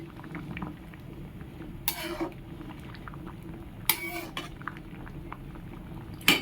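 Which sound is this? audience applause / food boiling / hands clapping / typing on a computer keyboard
food boiling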